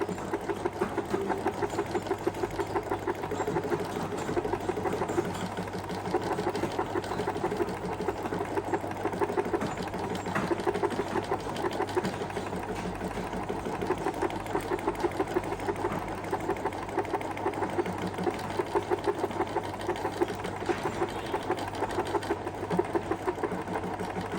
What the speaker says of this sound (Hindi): पूरा लिख कर मशीन स्टार्ट कर दे तो पूरा नाम लिखकर मशीन खुद ही रुक जाएगी।